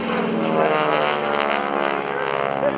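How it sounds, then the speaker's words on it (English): A vintage Harvard/SNJ propeller trainer roars overhead during a four-point hesitation roll at an air show, a loud sustained engine and propeller drone with a harmonic buzz that wavers slightly as it passes. "stopping the airplane every 90 degrees of rotation, it is Bill Leff at a 4-point hesitation roll"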